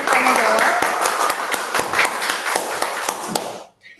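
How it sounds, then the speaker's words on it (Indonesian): Audience applause at a university political communication seminar session, steady dense clapping filling the room for several seconds before cutting off, with a voice speaking over it. "Beri tepuk tangan sekali lagi untuk ketiga narasumber kita pada hari ini."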